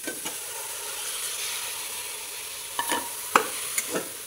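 Soybeans, potatoes, cabbage and washed rice are stirred in a hot pan for pulao, a quiet sizzle with a few distinct spoon-scrape knocks near the end, no voices.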